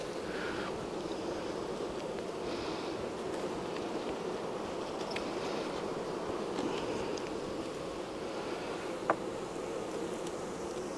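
Bees buzz around an open beehive while combs are being moved, a dense continuous drone of many insects at varying distances, steady throughout with a faint outdoor background.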